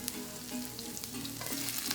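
Steady, crackling sizzle of onions frying in olive oil in a hot skillet, continuous and fairly soft, with no voices.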